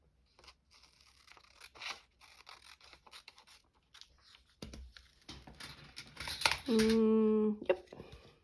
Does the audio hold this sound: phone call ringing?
no